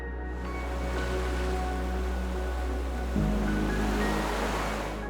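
Tidal current rushing through a narrow sea channel only about 150 meters wide, a loud, steady roar of churning water that holds constant throughout and swells slightly near the end.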